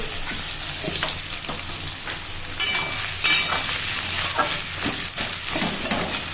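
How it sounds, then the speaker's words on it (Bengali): Onions frying in a pan with salt give off a steady, close sizzle, with scraping stir strokes and a few brighter crackles partway through; no voices. "ভাজা হোক পেঁয়াজগুলো ব্রাউন কালারের হয়ে আসবে"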